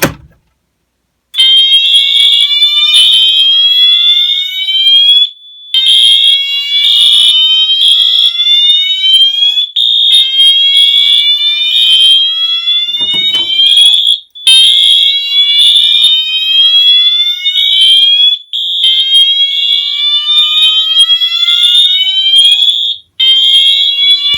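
Piercing fire alarms blare continuously during a system test after a pull station is activated, a repeating high whooping pattern, very loud and close, with brief gaps between cycles and no talking.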